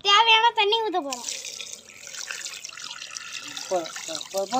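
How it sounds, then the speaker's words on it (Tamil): Water runs and splashes steadily into a cooking pot for boiling mutton tripe, close by, with a person speaking briefly before and after the pour. "இப்ப வேக வைக்கிறதுக்கான தேவையான தண்ணி ஊத்த போறோம்,"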